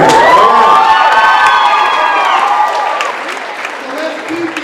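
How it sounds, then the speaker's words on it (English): A crowd at a youth poetry slam applauds and cheers loudly for a poet, with shouts and whoops rising over dense clapping that stays strong throughout, easing slightly toward the end. "So let's keep the applause going for the poet from Lawrence Free State."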